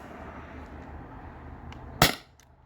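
A single sharp crack from a Beeman HDP50 spring air pistol fires once near the end, close and brief, after a quiet stretch.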